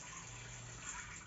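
Water runs steadily from a 4500W ROBANL electric shower water heater, a continuous close hiss of flowing water without a break.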